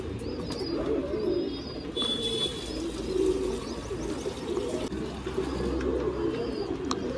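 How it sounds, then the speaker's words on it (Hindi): A frightened pigeon coos repeatedly among other birds, low soft calls recurring close by while faint chirps sound in the background. "कबूतर बहुत ज़्यादा डर रहा है"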